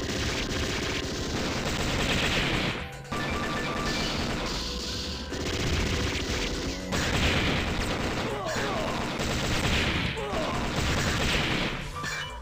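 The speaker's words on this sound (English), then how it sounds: "Heavy machine gun!" Heavy machine gun blazing in the arcade shooter Metal Slug 6, dense rapid bursts with crashing impacts under loud game music and effects, continuous and close throughout.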